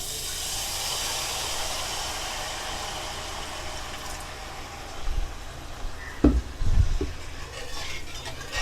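Water poured into a hot pan of fish masala for chilli garlic pomfret sets off a steady, loud steaming hiss that runs throughout, with a few clunks and knocks of the pan near the end.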